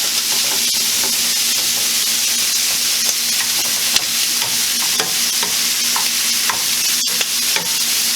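Shrimp and cauliflower rice sizzle steadily in a hot pan, a loud, continuous frying hiss broken by scattered crackles and the occasional scrape, with no voices over it.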